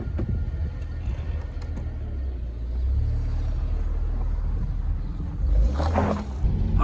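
A Mercedes SL 350 engine runs at a steady idle as it warms up, a loud, constant low rumble that swells slightly partway through, heard alone without voices.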